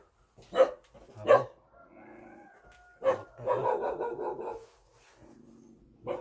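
Jindo dogs bark and scuffle close by, with sharp loud barks, growling and snarling in bursts, a brief pause, then more barking, with no talking over it.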